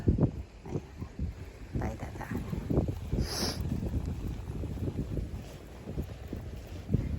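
Steady wind buffeting the microphone with low rumbling gusts, broken by brief whooshes, in a garden in Japan in early spring, with faint water and motor noise in the background.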